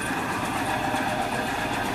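A Yamaha YBR 125-G motorcycle engine runs at a steady idle, a faint, even hum with no revving.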